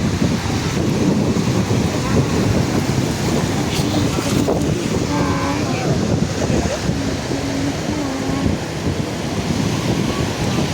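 Sea waves roll onto Diveagar beach in Maharashtra in a steady, loud roar of surf mixed with gusting wind buffeting the microphone, with faint voices in the background.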